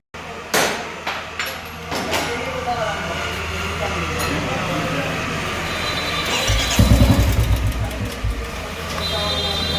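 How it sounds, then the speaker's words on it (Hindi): A Royal Enfield 350cc motorcycle with a hydraulic tappet fault starts up after some clanking and handling noise. The engine catches into a close, loud, rhythmic thumping idle, with talk around it. "तो स्टार्ट करते हैं बाइक जल्दी फटाफट से।"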